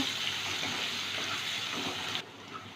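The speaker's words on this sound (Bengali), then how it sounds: "পেঁয়াজটা একটু ভেজে নেব" Chopped onion frying in hot oil with whole dried red chillies and whole garam masala, a steady close hiss and sizzle that drops abruptly to a quieter simmer near the end.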